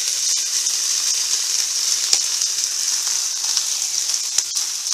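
Bacon and cabbage sizzle steadily in a pan, a dense even frying hiss with a few sharper pops and crackles, close and continuous with no talking.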